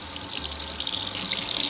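Tap water runs steadily into a sink as something is washed off, a close, continuous hiss and splash with no talking.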